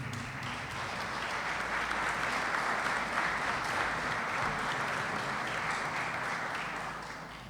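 Sustained applause from an audience at a senators' coalition press conference in Rocha, a dense steady wash of clapping lasting throughout and tapering slightly at the end.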